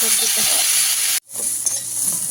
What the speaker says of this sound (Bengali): ভালো করে পুঁই ডাঁটাটা ভেজে নেবো। সবজিগুলো ভালো করে ভাজবো।